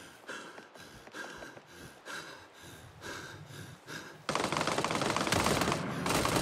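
Gunfire aimed at the player in the video game Get Even starts as separate sharp shots and short bursts, then swells into loud, continuous rapid fire for the last couple of seconds.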